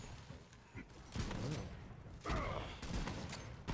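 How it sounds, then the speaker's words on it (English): Enemy mortar fire in the video game Borderlands 3, with repeated thumping blasts and bursts of gunfire in a swampy battle while players talk over the action. "Rams are, like, shooting mortar-type stuff up at me"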